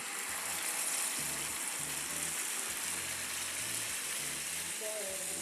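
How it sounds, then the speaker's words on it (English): Salsa sizzling and frying in a hot pan on the stove, a steady close crackling hiss with faint clicking scrapes underneath. "We're actually going to get this pan nice and hot, and we're going to cook this salsa"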